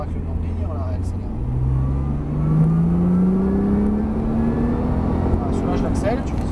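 A Porsche on a race track, heard from inside, accelerates again out of a corner, its engine note climbing steadily and loud beneath continuous engine and road noise.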